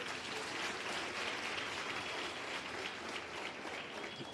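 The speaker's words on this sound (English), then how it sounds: "For the learners who are here today, give yourself a round of applause." An audience at the launch of a skills development centre applauds the learners present, giving steady, sustained clapping from many hands without a break.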